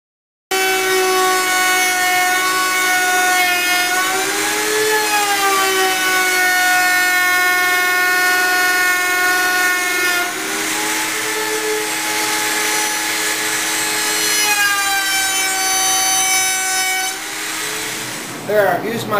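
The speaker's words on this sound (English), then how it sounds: "I've used my straight router bit with the MDF as a template to make the clamping caul" A router with a straight bit cuts MDF along a template to shape a clamping caul, a loud, close, high whine that holds steady for many seconds with small dips in pitch as the bit loads, then winds down.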